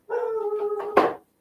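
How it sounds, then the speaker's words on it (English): A dog barks and howls nearby, a drawn-out tonal yowl ending in a sharp, louder bark, heard alone without talk. "What is Buddy barking at, dude?"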